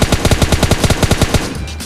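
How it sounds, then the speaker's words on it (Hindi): Automatic gunfire in the mobile battle-royale game PUBG Lite: a loud, rapid burst of about a dozen evenly spaced shots that stops abruptly, with no talking. "हम जो है तुरंत इनके ऊपर गोली बरसा देते हैं"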